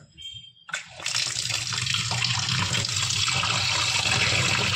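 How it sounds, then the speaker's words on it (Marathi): A kilo of village-style mutton is washed in clean water; after a short quiet start, a steady, loud rush of running water with splashing continues to the end. "मटण आता धुवून घेऊ स्वच्छ पाण्यात."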